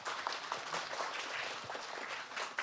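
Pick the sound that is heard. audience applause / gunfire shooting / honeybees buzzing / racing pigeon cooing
audience applause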